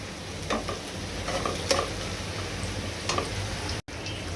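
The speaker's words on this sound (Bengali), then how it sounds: "এখানে রসুন, পেঁয়াজ, শুকনা মরিচ দিয়ে আমি ডালটা বাগার দিয়ে নিচ্ছি।" Chickpea dal being tempered with garlic, onion and dried chili in hot oil, a steady close sizzle with occasional stirring scrapes and light ticks, and a brief dropout near the end.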